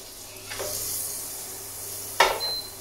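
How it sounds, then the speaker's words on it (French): A small piece of butter melts into hot oil in a pan, hissing in a steady close sizzle, with a soft utensil tap early on and a sharper clink near the end. "L'huile va permettre en fait au beurre de monter en température sans brûler"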